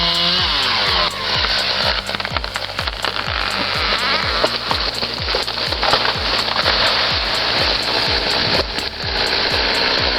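Husqvarna 372 XP chainsaw cutting into a tree, a loud, continuous high-revving engine whine with rhythmic pulsing and woody grinding throughout, close and unbroken, alongside other saws.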